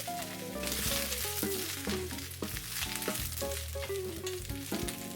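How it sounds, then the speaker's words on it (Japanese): Sizzling and crackling of vegetables being stir-fried in oil over high heat in a frying pan, with clatters of a utensil stirring, close up. "フライパンを熱し油を広げ野菜を炒めます。"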